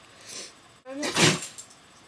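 An English Staffy gives a single sharp sneeze up close indoors, a short burst preceded by a quieter snuffle.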